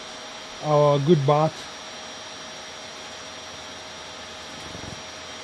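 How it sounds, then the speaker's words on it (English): A household vacuum cleaner drones at a steady, fairly faint level, a constant whirring hum that runs unchanged from start to finish while a voice briefly speaks over it early on. "let me turn the vacuum cleaner off"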